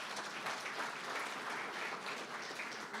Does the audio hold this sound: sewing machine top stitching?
no